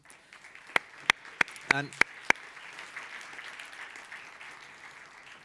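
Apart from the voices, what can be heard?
applause closing a conference panel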